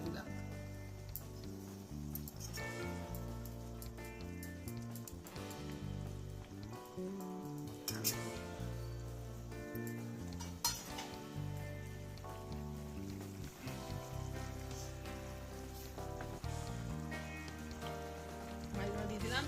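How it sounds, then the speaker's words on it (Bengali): Katla fish pieces dropped into a simmering curry gravy give a steady close sizzle and bubbling hiss, with music playing over it throughout. "এবার মাছগুলো ছেড়ে দিচ্ছি, মাছগুলো দিয়ে দেবো ঝোলটা।"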